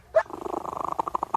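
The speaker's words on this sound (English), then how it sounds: "That's a happy cat." A cat purrs in a steady, fast rumbling rhythm, close up, after a brief higher chirp at the start.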